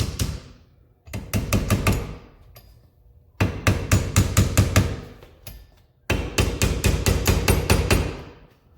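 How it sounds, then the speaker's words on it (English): Three bursts of quick metallic hammer taps strike down a shock cap on an ATV shock during reassembly, each burst a rapid run of close, sharp knocks separated by short pauses. "we can go right ahead and tap down our little cap here"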